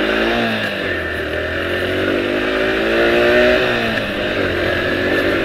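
A Yamaha YTX 125 motorcycle accelerates from close by, its small single engine buzzing loudly as the pitch climbs through a gear and keeps rising.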